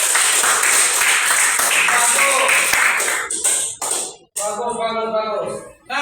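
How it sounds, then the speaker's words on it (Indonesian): A class of students claps hands together in a school lesson, a dense, sustained burst of many hands at close range that breaks off and gives way to a voice speaking. "Oke, tepuk tangan dulu."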